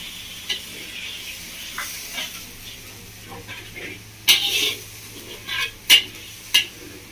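Masala being stirred in a pan over a low gas flame for village-style chicken curry with pudina, a soft sizzle under scraping spoon strokes and several sharper clanks of utensil against pan.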